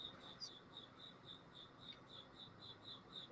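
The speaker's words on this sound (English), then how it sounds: "We've got some crickets in the background here." Crickets chirp in the background in a steady, evenly spaced pulsing trill, faint and distant against a quiet room with low hum and no talking.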